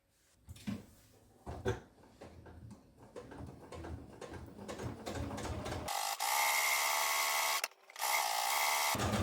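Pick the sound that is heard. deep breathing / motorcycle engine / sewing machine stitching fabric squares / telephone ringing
sewing machine stitching fabric squares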